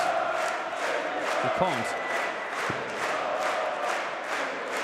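A darts crowd at the 2019 German Darts Championship, during the James Wade vs. Darren Webster match, keeps up a steady, rumbling murmur and roar, while a voice speaks briefly over it.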